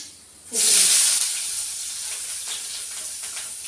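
Chopped large onion with green chilies and mustard seeds hitting hot oil in a pan: a sudden loud burst of sizzling hiss that eases into a steady, continuous fry, close and alone.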